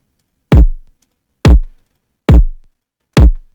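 Four loud, punchy, heavily boosted kick drum hits without a transient shaper land at an even pace, each with a deep boomy body that decays quickly into silence.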